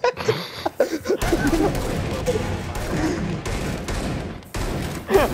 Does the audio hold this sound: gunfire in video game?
yes